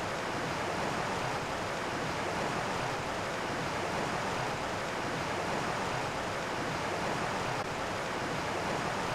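A river flows steadily beside a bike trail along the Greenbrier River in West Virginia, a continuous close rushing wash of water with a faint wind-like hiss and no talking.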